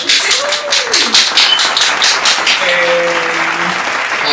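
Applause and clapping from a live podcast-show audience, a steady burst of many hands lasting several seconds, fairly loud and close, with a host's voice calling out faintly over it.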